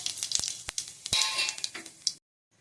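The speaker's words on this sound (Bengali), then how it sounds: "গরম হয়ে গেছে, এবার তেলের মধ্যে দিয়ে দেবো জিরে" Cumin seeds dropped into hot oil for a carp fish curry with mustard and poppy seed paste, a bright crackling sizzle broken by sharp clicks and pops that stops abruptly, then brief quiet.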